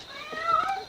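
A cat in the horror film Jeepers Creepers gives a single short, plaintive meow, close and fairly clear, lasting under a second.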